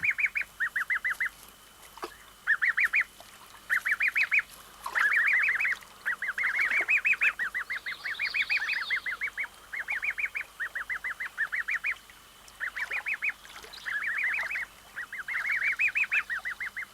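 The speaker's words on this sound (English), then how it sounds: "The Canada goslings have hatched and are ready for their first swim." Canada geese and their newly hatched goslings call in rapid bursts of repeated high honks and peeps, close and loud, grouped in clusters with short pauses between them and no voices.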